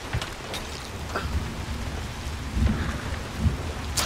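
Heavy rain pours down in the first-person shooter Hunt: Showdown, a dense, constant hiss of downpour with scattered raindrop taps and low rumbling thunder, loud and close with no talk over it.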